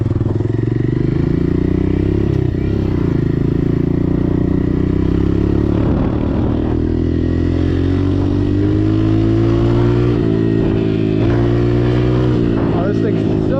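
A Honda CRF 125F dirt bike engine drones loud and close throughout the ride, its pitch rising and falling as the rider accelerates.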